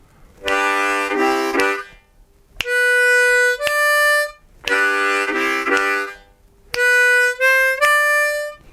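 A harmonica plays a bluesy riff in two matching phrases, reedy chords alternating with bending single notes, loud and close.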